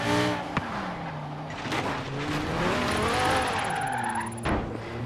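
An Audi R8 drifting in the racing game Forza Horizon 3, its engine droning and shifting pitch as tires squeal in long, wavering screeches, loud and close throughout.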